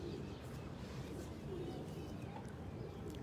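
Pigeons belonging to a Lahore pigeon keeper cooing softly in a low, continuous murmur, a steady dull bed of sound that stays even throughout with no distinct calls standing out.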